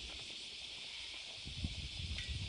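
Cicadas buzz in hot summer weather on the Kii Peninsula near Nara, a steady high, shrill drone holding throughout, with faint rustling and handling noise below.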